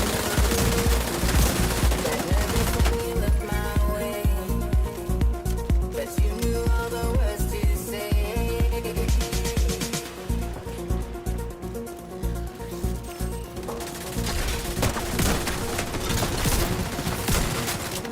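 Sustained automatic gunfire in the video game The Division 2, with rapid loud bursts shooting through concrete cover, rattling almost continuously with brief pauses and little talk.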